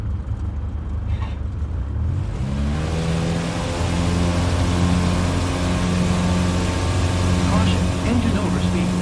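Aviat Husky light aircraft engine in Microsoft Flight Simulator, rising from low rumble into a loud, steady high-revving drone that holds throughout, pushed past its safe speed, with faint radio-style talk underneath early on.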